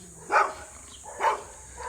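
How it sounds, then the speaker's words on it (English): Two short dog barks about a second apart, somewhat distant, with a fainter third yelp at the end. "Oh, more dogs."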